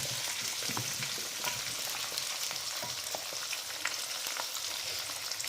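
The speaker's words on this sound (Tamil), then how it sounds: "இதை நல்லா சவுக்க வச்சுக்கோங்க ஒரு அஞ்சு நிமிஷம் நல்லா வதங்கட்டும்" Onions and garlic sautéing in a pan give a continuous close frying sizzle with occasional light stirring, with no voices.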